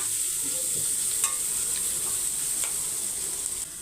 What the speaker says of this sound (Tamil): இப்போ வெங்காயம் பார்த்திங்கன்னா இந்தமாரி சாஃப்டாக நல்லா வதங்கணும்